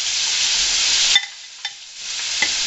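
Dredged chicken pieces fry in a pan with a loud, steady sizzle that briefly drops out as a piece is moved, then returns with small pops and crackles.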